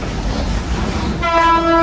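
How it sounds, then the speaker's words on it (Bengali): A passing train close by, a loud rumbling roll that is joined by a sustained blaring horn toward the end, heard outdoors near a house yard. "ট্রেন যাচ্ছে না?"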